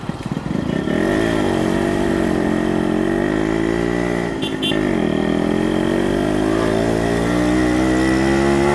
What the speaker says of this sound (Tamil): ஸோ கியர்லாம் டவுன் பண்ணி திருப்பி ரேப் பண்ண அப்படியே ஏறிடும்.